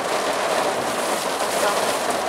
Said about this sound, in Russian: Начался сильный дождь гремит гром, сверкают молнии.